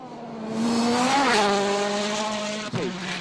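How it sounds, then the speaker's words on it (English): A Citroën DS3 rally car is driven hard through a quarry stage at a rally in Jordan, its engine howling loud and close as revs climb, then a sharp shift and drop before pulling hard again. "a bit of a moment as the Norwegian hurls his Citroën DS3 through this quarry"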